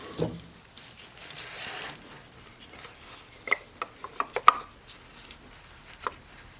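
Ignition coil pressed back into place on a 2013-2019 Ford Escape engine during a spark plug job: a run of sharp, close plastic clicks and light scraping taps, irregular and mostly isolated, with no talk.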